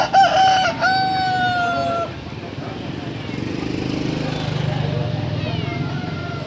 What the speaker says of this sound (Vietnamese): Đây là khu vực bán gà này.